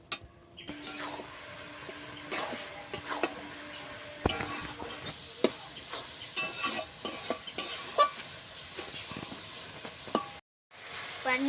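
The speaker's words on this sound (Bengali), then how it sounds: "কয়েক মিনিট ধরে ভালো করে আমি ভেজে নিয়েছি, আরও একটু ভাজতে হবে" A coconut mixture sizzles in a pan while a spatula stirs it almost continuously, with repeated scraping strokes and light clacks, close and fairly loud, and a brief cut near the end.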